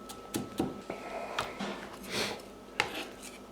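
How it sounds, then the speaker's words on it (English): Knife finely chopping shallots on a cutting board, a few quiet, irregular taps and scrapes spaced through the moment, faint and close with no talk over them. "just keep going until they're extremely fine, as fine as you can get with your knife"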